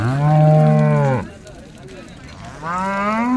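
A cow at a cattle market in Baramati moos twice nearby, a long deep bellow followed after a pause by a second one, loud and clear.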